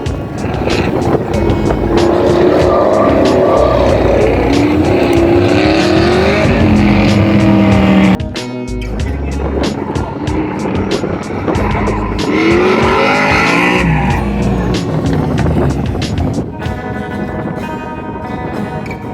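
Loud roaring 1955 Dodge race truck engine revving and accelerating continuously, with gear changes and tire noise, close and intense throughout.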